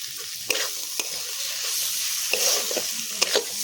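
Banana flower curry with potato and chickpeas sautéing in a pan, a steady bright sizzle with occasional spatula scrapes and taps, close and moderately loud, no talking.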